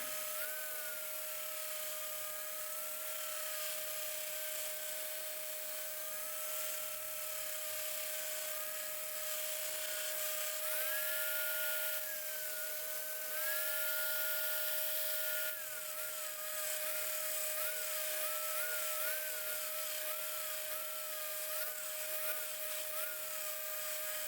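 A san mai steel knife blade is ground on a grinder, a loud continuous whine and hiss with a steady tone that wavers slightly as pressure changes, holding for the whole stretch without talking.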